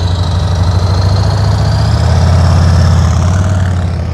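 A motorcycle engine runs steadily with the throttle held up during slow-speed riding practice, a loud, continuous low rumble with a faint rising whine, alone and without talk.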